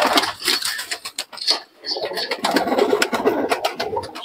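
Pigeons coo in soft, overlapping bursts at a busy pigeon market in Murshidabad, close and fairly quiet, with a clutter of small knocks and rustles around them.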